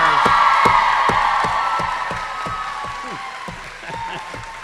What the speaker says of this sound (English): So how about another round of applause for your supporters?